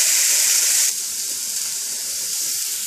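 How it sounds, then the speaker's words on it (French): Steak and onions sizzling and simmering in a frying pan, a steady bright hiss that drops in loudness a little partway through and keeps going, with no talking. "je laisse toujours mon petit steak qui cuit doucement mais sûrement"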